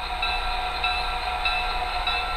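A model diesel locomotive with a Tsunami2 sound decoder idles and starts pulling a train at its lowest speed step, giving a steady rumbling engine drone with hissing air, close and continuous, with no talking.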